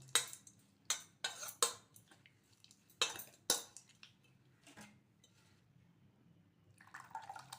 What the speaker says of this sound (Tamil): இது நல்லா கலந்து விட்டுடலாம்.